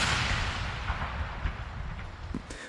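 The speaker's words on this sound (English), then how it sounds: "The legendary Royal Gun Salute, one of the most iconic traditions surrounding a monarch's birthday." A royal gun salute of artillery rounds fired for a monarch's birthday, with a loud booming blast fading into rolling echoes, followed by a few fainter distant reports.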